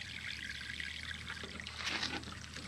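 Water poured onto the roots of garden plants, a steady close splashing pour with a brief louder gush near the end, no voices.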